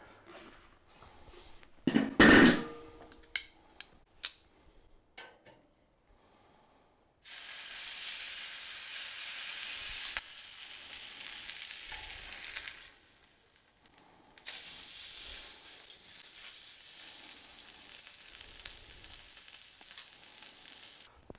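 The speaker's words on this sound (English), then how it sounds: "So let's get this seared." Pork tenderloin marinated in tequila sears in a cast iron pan, starting with a few loud clunks and handling noises, then long stretches of steady, moderate sizzling that fade between bursts; no speech.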